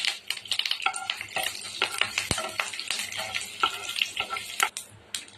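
Mustard seeds, cut dried red chillies and curry leaves fry in hot oil for a chutney tempering, a close crackling sizzle with sharp pops and spits, and now and then a utensil clinks against the pan.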